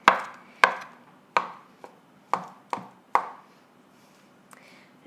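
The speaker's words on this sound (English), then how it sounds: "half of this I'm just going to chop randomly into little pieces, like you would a traditional egg" A knife chops a vegan egg substitute into small pieces on a board, six or seven crisp, separate strikes at an uneven pace, close and clear with nothing else in the background.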